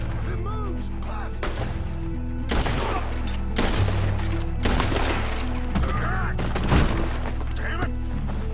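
Gunfire in the Red Dead Redemption 2 video game, with several sharp, loud shots spaced about a second apart over a steady low rumble, close and punchy.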